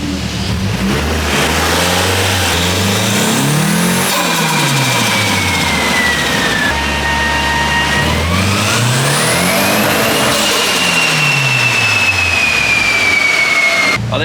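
Turbocharged SR20DE+T engine in a Nissan Silvia on a dyno, loud and close, revving up and down in long sweeping pulls with a rising whine and a steady roar throughout.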